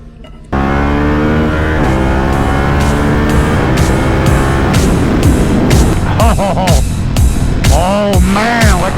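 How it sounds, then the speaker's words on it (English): A 2025 Harley-Davidson Pan America 1250 ST motorcycle roars as its exhaust kicks in loudly and accelerates steadily through several rising gear pulls, the engine note climbing and dropping with each shift. "Oh man, that exhaust sounds so good."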